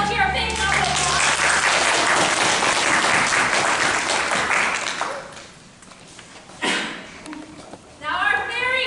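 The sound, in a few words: audience applause for a volunteer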